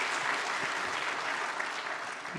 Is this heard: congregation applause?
yes